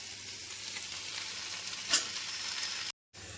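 Chili paneer fries in a pan with a steady broad hiss of sizzling oil, one brief louder spatter near the middle, then a sudden cut to silence just before the end.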